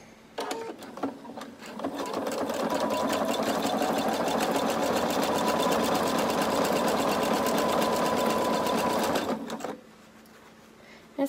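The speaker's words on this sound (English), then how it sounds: "I'm going to sew my elastic together" A sewing machine stitches the edges of an elastic band together for a maxi skirt, starting after a few clicks and running in a steady, loud rapid whir for about eight seconds before stopping.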